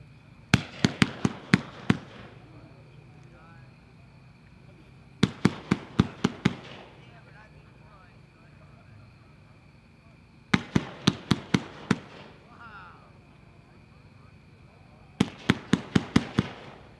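The Pyroland Ghost Stories 130-shot fireworks cake fires in four separate volleys. Each volley is a rapid string of five or six sharp cracking launches, and quiet gaps with distant faint bursts separate them.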